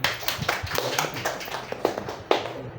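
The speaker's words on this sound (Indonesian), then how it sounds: "Tepuk tangan semuanya." A short burst of scattered clapping from a small group, irregular and moderately close, fading out after a few seconds.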